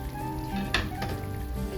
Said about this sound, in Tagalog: Okay, kumukulo na siya guys.